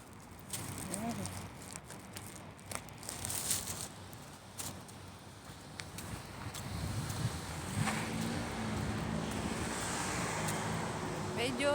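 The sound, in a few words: wind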